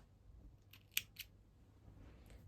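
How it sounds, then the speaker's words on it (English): Scissors snip crochet yarn with two quick sharp clicks close by, in an otherwise quiet room. "Then you're gonna chain 1 and cut off your yarn."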